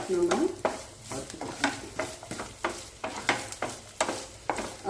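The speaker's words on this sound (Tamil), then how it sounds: "தேங்காய் வறுப்படட்டோங்க நல்லா கோல்டன் ப்ரௌனாக வர வரைக்கும்" Grated coconut frying and being stirred in a pan until golden brown, with repeated scraping stirs over a soft sizzle, close and without talk.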